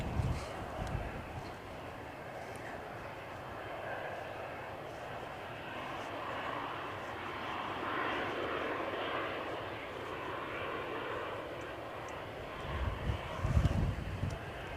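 A Brussels Airlines plane at windy Edinburgh Airport gives off a faint, distant engine rumble with gusty wind buffeting the microphone, while a voice speaks over it at times.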